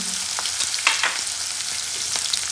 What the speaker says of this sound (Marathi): कांदा कांदा छान परतून द्यायचा